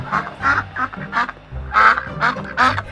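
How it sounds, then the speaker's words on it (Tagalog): Nasal duck quacks from inside a woven bag at a cockfighting arena come in a steady series of short, loud bursts, close by and uninterrupted by speech. "ang huni ng pato na nakalagay sa bayong."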